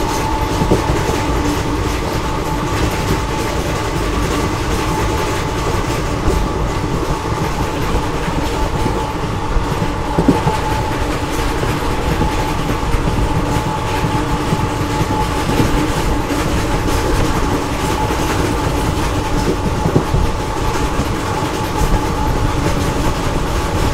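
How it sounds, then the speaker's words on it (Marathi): Inside the Khandesh Express, hauled by a WAG-9 electric locomotive, a steady rolling rumble fills the carriage with rhythmic clickety-clack of wheels on rail joints continuing throughout. "आणि आपलं जे लोकोमोटिव्ह ना ते वॅगनाइन लोकोमोटिव्ह आहे, त्यामुळे 100च्या वर काय जात नाही आपली गाडी."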